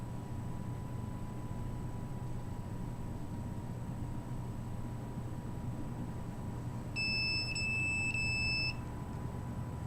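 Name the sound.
microwave detector alarm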